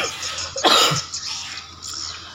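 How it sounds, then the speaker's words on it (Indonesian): A single sharp cough close to the microphone, sudden and loud, then quieter room sound with faint breathing. "lagi batuk"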